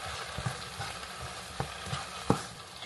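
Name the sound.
chili garlic sautéing in a pan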